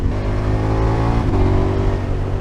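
Motorcycle engine running steadily on a mountain pass during a touring ride, a close, loud and even drone with a slight shift in pitch partway through.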